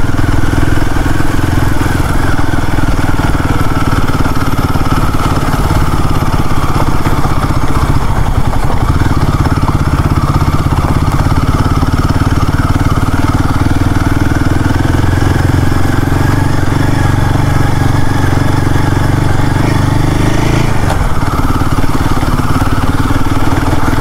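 A Royal Enfield Himalayan 450 motorcycle being ridden on a city test ride, its engine droning loud and steady close up with wind buffeting, a brief rise and fall in revs near the end.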